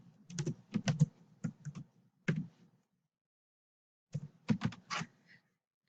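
Range names being typed on a computer keyboard: bursts of quick clicky keystrokes, a pause of silence, then another rapid run of taps, close and fairly quiet.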